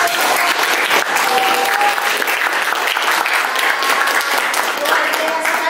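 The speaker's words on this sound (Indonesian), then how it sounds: "beri tepuk tangan yang meriah" Classroom audience giving loud applause after a student presentation, sustained clapping with scattered voices and a few whistles or cheers mixed in.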